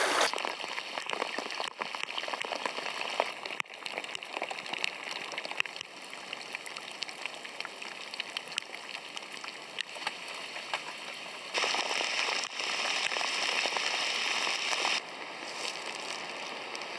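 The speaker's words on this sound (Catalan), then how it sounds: "Avui m'aixeco amb pluja." Rain patters steadily on a surface during a kayak trip, a dense hiss of drops with a few sharper taps. It holds at a moderate level and swells slightly near the end.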